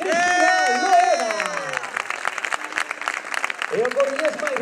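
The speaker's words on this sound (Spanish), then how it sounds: "podemos darle ya un aplauso muy fuerte a Coruñesa más rápida, Cristina Loeda" A crowd at the A Coruña 21 marathon applauds the fastest local female runner, with sustained clapping and some cheering from many people nearby, under and between a loud announcer's voice over the public address.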